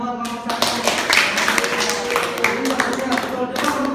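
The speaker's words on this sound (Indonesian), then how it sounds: "Tepuk tangan buat kelompok 1" Students clapping in a junior high school religious education classroom to applaud a group after a reading; scattered, uneven hand claps mixed with children's chatter and voices throughout.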